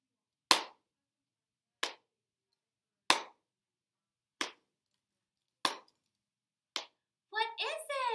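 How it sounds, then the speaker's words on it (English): Sharp hand claps and a finger snap in a repeating pattern: six distinct percussive hits spaced about a second apart, each crisp and alone against silence, followed by a voice speaking at the end. "Clap, clap, snap."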